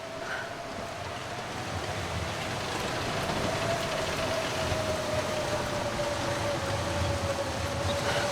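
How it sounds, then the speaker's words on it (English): Steady howling blizzard wind from the survival video game The Long Dark blows continuously throughout, a broad rushing roar with a faint sustained whistling tone riding on top, with no voices. "Definitely more normal blizzard sounds for the long dark."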